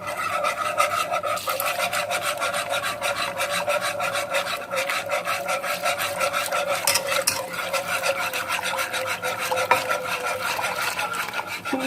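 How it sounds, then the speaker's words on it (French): A spoon scrapes and stirs steadily around a pan as hot milk is worked into a thickening sauce over very low heat for courgette lasagne, with a continuous close rasping rub and no voices. "je remue très fort avant que ça n'épaississe"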